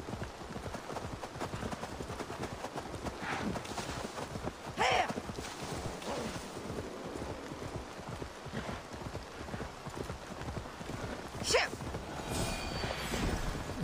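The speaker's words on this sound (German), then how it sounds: "hier ist mein neues Pferd" Horse hooves clip-clop steadily at a walking pace in Assassin's Creed Valhalla, a continuous rhythmic patter of many light thuds close by, with a couple of brief louder accents and no talking.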